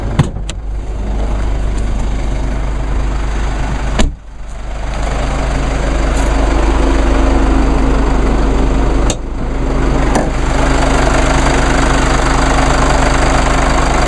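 A 2.1 liter four-cylinder twin-turbo diesel in a 2014 Mercedes-Benz GLK 250 idles with the hood open, a loud, steady clattering diesel rumble heard close up, broken by a couple of brief knocks or handling sounds.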